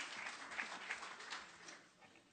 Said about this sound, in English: Oh, clap mid-panel.